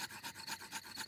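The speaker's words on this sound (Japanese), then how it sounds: "こうやって2本の枝をこすり合わせる。" Two wooden sticks are rubbed together to start a campfire in a Peppa Pig cartoon, giving a quick rhythmic rasping scrape of about five strokes in close succession.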